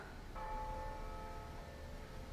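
Bells ringing in a TV show, a sustained tonal chime entering shortly after the start and lingering faintly over a low background.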